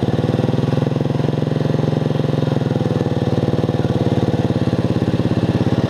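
A Dynamark racing mower engine with a slipping belt runs at a steady loud idle-like pulse, its even rapid thumping continuous and close throughout with no voices.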